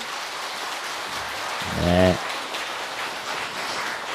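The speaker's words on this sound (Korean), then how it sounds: "박수!" An audience at a Buddhist monk's question-and-answer talk session claps in a steady, rain-like wash of applause, with a brief spoken voice breaking through midway.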